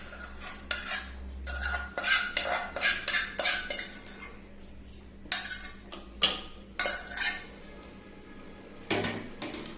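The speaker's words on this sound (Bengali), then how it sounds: "এবার চামিচ দিয়ে ভালোভাবে মিশিয়ে নিতে হবে, মিষ্টিটা যেন চারিদিকে ছড়িয়ে যায়।" A spoon stirs hand-cut semai pitha into a jaggery mixture in a pot, with bursts of rhythmic metallic clinks and scrapes against the pot, close and fairly loud, separated by brief pauses.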